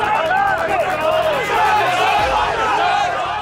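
A loud crowd of brokers on a Wall Street trading floor shouts orders in a dense, continuous babble of overlapping voices, close and energetic throughout.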